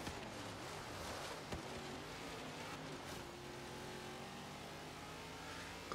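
The Warthog, the Halo vehicle in the racing game Forza Horizon 3, has an engine that drones and revs steadily with rising and falling tones, held at a moderate level throughout with no talking over it.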